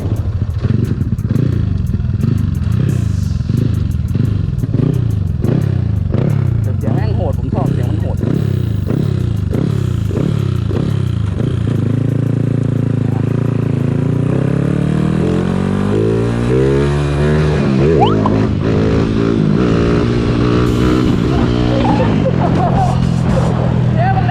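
A 125cc motorcycle ridden at full throttle, its engine revving hard in a rapid run of rising pulses, then a steady loud drone with shifting pitch, close and continuous, with someone talking over it.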